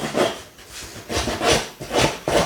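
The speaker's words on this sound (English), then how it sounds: "just roughen up the edges also of the card base." Paper edges of a handmade card base are roughened with a rasping tool, producing about five short scraping strokes in an even rhythm, close and unaccompanied by speech.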